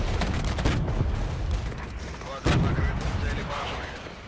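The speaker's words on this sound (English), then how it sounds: "It looks like this artillery is like white phosphorus almost." Artillery fire in the military strategy game Regiments: a continuous barrage of booming blasts and rolling explosions, with a sharp heavy impact standing out midway, loud and dense throughout.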